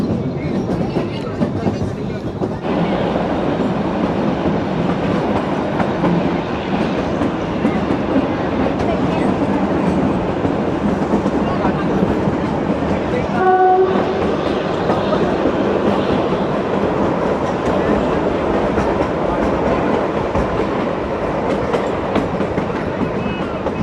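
Shimla toy train rolling along its narrow mountain line in winter, a steady loud rumble with rattling carriage noise throughout and a brief squeal or horn near the middle.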